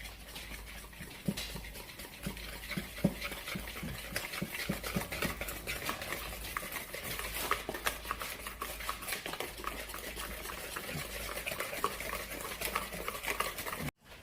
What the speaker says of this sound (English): Whisk that all together.